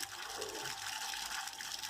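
Water runs steadily through the open valve of a digital drip irrigation timer, making a continuous hissing, rushing flow at low level with no voices.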